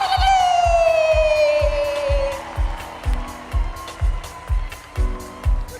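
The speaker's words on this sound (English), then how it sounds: "Please give her a huge round of applause" An audience at the Miss SA 2019 finals cheers and whoops loudly, the crowd noise layered over a steady thumping beat and a long descending whistle-like tone.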